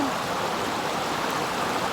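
Floodwater rushing through class 3 to class 5 river rapids, a loud, continuous roaring wash of water, steady and close, with no talking over it.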